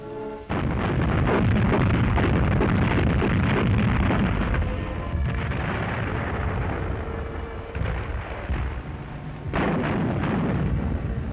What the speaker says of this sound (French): les canons des flottes alliées donnent le signal de l'assaut sur les plages de Normandie